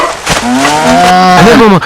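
A cow gives one long, loud, close moo that rises and falls, heard alone in a Tamil comedy scene.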